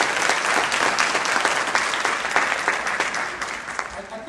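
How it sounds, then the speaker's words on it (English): An audience at a Black Wealth financial empowerment forum applauds a panel, with steady, dense clapping that holds at moderate loudness for several seconds. "All right, give a round of applause for this panel."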